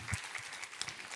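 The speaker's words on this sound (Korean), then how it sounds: "우리 하나님께 감사와 영광의 박수 올려드리겠습니다" A church congregation clapping during a Sunday worship service: a brief, quiet patter of scattered hand claps heard from some distance in a reverberant room.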